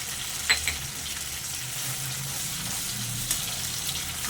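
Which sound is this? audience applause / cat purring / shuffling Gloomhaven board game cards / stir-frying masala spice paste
stir-frying masala spice paste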